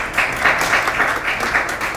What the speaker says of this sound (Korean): 박수로 먼저 환영해 주시기 바랍니다.